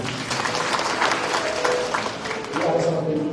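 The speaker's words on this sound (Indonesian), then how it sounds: "Berikan tepuk tangan bagi Tuhan." A church congregation claps during a Sunday worship service at Bethany church in Gunungsitoli; the crowd's applause is a steady wash heard under ongoing voices, moderately loud throughout.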